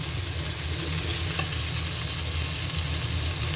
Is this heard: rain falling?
no